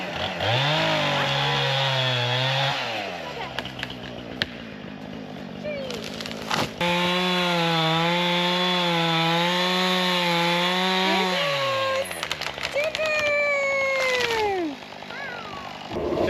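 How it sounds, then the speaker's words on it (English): A chainsaw runs while clearing trees at an off-grid homestead, revving loudly in two long bursts with idle gaps between, ending in a few shriller squeals. "Definitely gotta sharpen this chainsaw before I do anything else."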